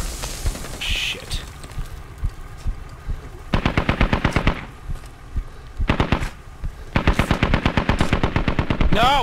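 Bursts of automatic gunfire and explosions from the military shooter game Squad, with rapid rhythmic volleys in several loud stretches separated by brief pauses.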